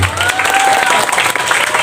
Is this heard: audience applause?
yes